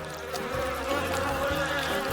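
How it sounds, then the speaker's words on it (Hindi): Many bees buzz around a honeycomb while honey is scooped out with a spatula, making a dense, continuous, fairly loud drone with shifting pitch and no talk. "ओह नहीं, कितनी सारी मधुमक्खियाँ हैं।"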